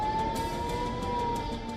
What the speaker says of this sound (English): Blaring sirens,